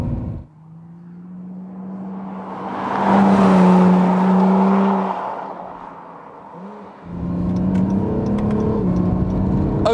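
A new Honda NSX accelerates while overtaking on a road, its engine note rising and swelling into a loud, smooth whirring roar, easing off, then building again, with no voices.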